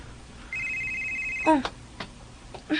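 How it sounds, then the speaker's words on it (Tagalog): A cellphone rings with an incoming call, a steady electronic ring tone starting about half a second in and holding for a second, then broken by a few short sharp knocks and clatters near the microphone. "May nanawag sa imong cellphone gang."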